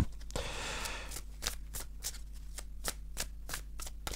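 A small archangel oracle card deck is cut and handled close up: a brief riffling rush at the start, then a string of crisp, evenly spaced card snaps and taps.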